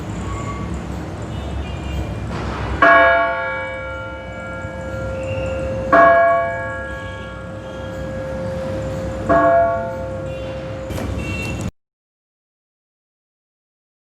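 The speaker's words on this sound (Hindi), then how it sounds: "ये घंटी इस तरह हो जाती है और जब इसको छोड़ा जाता है तो इस तरह आवाज़ आती है।" The clock tower bell of Ghanta Ghar in Peshawar, built in 1900, strikes loudly three times at even intervals of about three seconds. Each ringing tone hangs on and fades over a steady background hum, and no one speaks.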